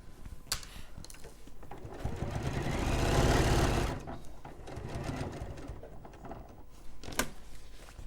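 Sewing machine stitching a poppy bag, a buzzing run that swells to a steady loud whir for a couple of seconds and then eases, with lighter machine and handling noise around it.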